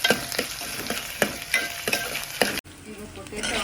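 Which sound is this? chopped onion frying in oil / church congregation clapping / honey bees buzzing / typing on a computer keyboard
chopped onion frying in oil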